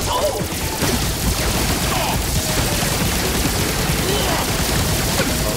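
Dense bursts of gunfire from the Skylanders Imaginators video game crackle in near-continuous volleys, loud and steady throughout, with a voice talking over the shooting.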